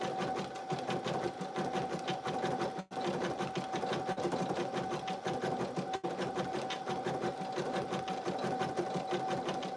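An embroidery machine stitches an in-the-hoop lip balm holder with a steady, fast run of needle strikes, pausing for brief instants twice before resuming its even mechanical rhythm.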